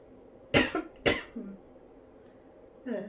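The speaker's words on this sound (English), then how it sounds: "I'm gonna cough, sorry." A person coughs twice in quick succession, close and fairly loud, with a small throat noise after; a brief softer cough or throat sound follows near the end in an otherwise quiet indoor room.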